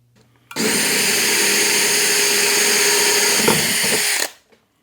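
A power drill with a 30 millimeter bit boring a hole while a chicken watering system is installed, one loud continuous whine lasting about four seconds, up close, with a slight bogging near the end before it stops.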